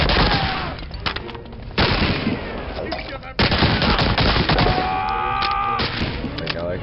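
Pistol fire in the WWII shooter Medal of Honor Allied Assault: loud, rapid shots sounding close, mixed with heavy surrounding gunfire and thuds, running continuously throughout.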